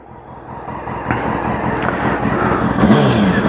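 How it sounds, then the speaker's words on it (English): A Honda Hornet motorcycle with its standard exhaust revs up, the engine note climbing from a low murmur to a louder, rising scream close by, with no talk over it. "It does have quite a nice engine scream, is what I'd call it."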